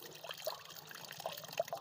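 Soapnut (kunkudu) juice is poured into water to make a homemade garden spray against aphids, giving a faint, close trickle with a few small splashes over about two seconds.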